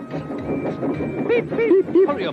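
A train rolls along in an animated children's series, a steady rumbling mechanical chug with several short whistle-like squeals near the end, heard loudly under a narrator's talking.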